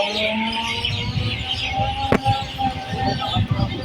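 Birds chirping and cooing around a village, scattered calls over a background of passing traffic hum, with one sharp click partway through.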